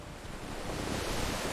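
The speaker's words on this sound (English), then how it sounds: "He sat still and listened to the slow movement of water against the hull." Water moves slowly against a boat hull out on the open ocean, a soft, even wash of noise with faint wind, steady and low throughout.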